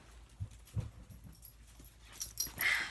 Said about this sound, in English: He's a Chihuahua.